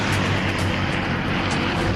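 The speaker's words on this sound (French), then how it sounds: "Des Mustangs du 47e Fighter Squadron décollent de l'île d'Iwo Jima" A formation of P-51 Mustang fighters from the 47th Fighter Squadron takes off from Iwo Jima in 1945, their piston engines making a dense, continuous, loud propeller roar with no pauses.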